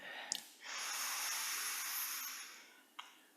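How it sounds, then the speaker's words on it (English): A slow, deep breath drawn in during a guided meditation, a soft airy hiss rising and sustained for about two seconds, quiet and close, with faint rustles before and after. "take a nice deep breath in."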